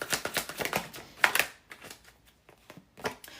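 Tarot cards being shuffled and drawn during a live love reading, a quick run of soft papery riffles and flicks, close and fairly quiet, with no talking.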